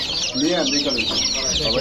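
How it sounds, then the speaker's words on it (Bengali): Sonali chickens of the Golashila (naked-neck) type at a bird market cluck and chatter continuously at close range, mixed with background voices. "সোনালি গলা শিলা মুরগি দেখেন একদম প্রতিটা মুরগি গলা শিলা না"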